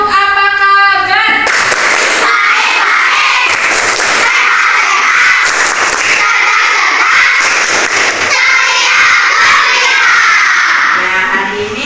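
Fourth-grade schoolchildren in an Indonesian classroom join a clapping chant led by their teacher, a loud, continuous burst of voices shouting together with claps that fills nearly the whole stretch.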